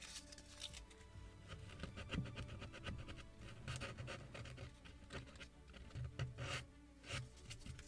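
Stiff sandpaper rubbed by hand against the wooden planking of a model gunboat kit, giving a series of short, rasping scratches in uneven bursts, close and fairly quiet, with no talk.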